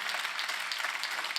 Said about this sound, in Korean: 박수치라는 거야.